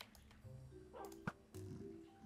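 A dog in Minecraft gives a few short yips and whimpers over faint background game sounds, fairly quiet, with no talk.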